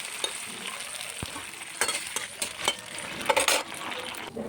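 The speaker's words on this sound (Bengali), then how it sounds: "মসুর ডালটা ভেজে নেব।" Masoor lentils fry in a pan with a quiet, close sizzle, punctuated by irregular stirring scrapes and light metallic clinks against the pan.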